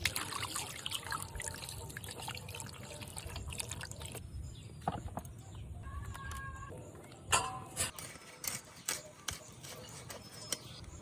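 Water trickles and splashes while raw hilsa fish are washed in a village kitchen, quiet and close, ending in a few louder irregular drips and splashes.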